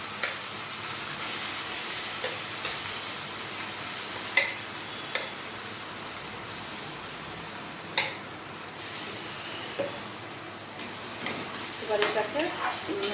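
Pointed gourd paste frying in a pan with onions browned to a reddish hue, a steady soft sizzle broken by occasional sharp clicks and scrapes of stirring, faint and continuous without talk.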